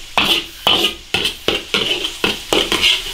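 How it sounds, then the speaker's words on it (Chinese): Ginger, garlic and green and red peppers stir-frying in hot oil in an iron wok, with a spatula scraping and clanking against the metal in a steady rhythm of about two strokes per second over a soft sizzle. "烧点油，生姜、大蒜、青红椒炒香。"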